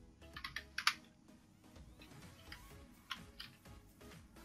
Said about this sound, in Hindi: यहाँ पर आपको कंट्रोल शिफ्ट प्लस सी आपको अपन कीबोर्ड से प्रेस करना है